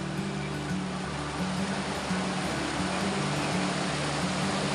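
Water rushing down the Chaparai stream in the Araku valley tribal area, a steady, dense roar of flowing water, loud and continuous with no pauses.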